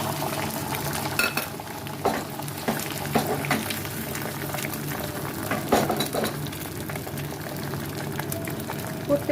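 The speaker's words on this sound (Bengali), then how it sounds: "আবার তেল দিয়ে দিয়েছি তাওয়াতে" An omelette fries in oil on a tawa, producing a faint continuous sizzle with scattered clinks and scrapes of a utensil against the pan.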